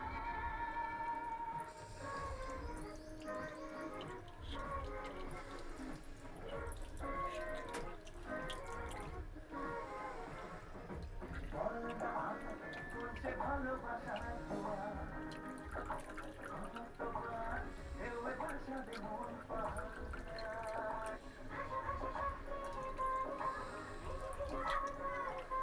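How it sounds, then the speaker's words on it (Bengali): Water poured over a Shiva idol during a Shivaratri bathing ritual, a steady trickling and splashing that carries on throughout under soft background sounds. "এবার জল দিয়ে স্নান করানো হচ্ছে"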